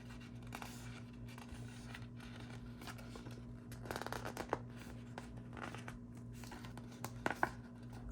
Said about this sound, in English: So these are sometimes a little tricky in getting them off the sheet.